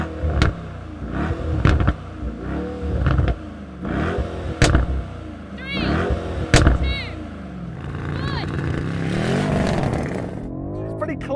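A BMW M5 Competition and a Mercedes-AMG E63 S accelerate hard in a drag race, with rising engine roars and repeated upshift surges, loud and close, under some speech.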